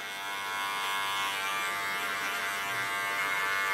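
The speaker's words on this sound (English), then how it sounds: "Put my clipper through the back." An electric hair clipper buzzes steadily and close, with a constant high whine for a few seconds while trimming hair at the back of the head, with no talking.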